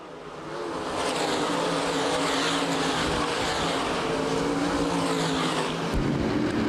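Modified race cars racing wheel to wheel at Winchester Speedway, a banked oval, with a loud, continuous engine roar sustained throughout as the pack runs through the corners, no voices.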